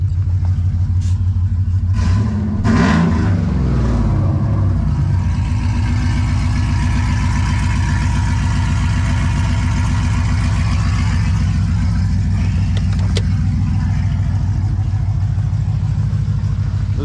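A modern truck's engine, started cold and fitted with open 1 3/4-inch headers, rumbles loud and close for the whole stretch, with a rougher burst of revving early on over a steady, deep idle.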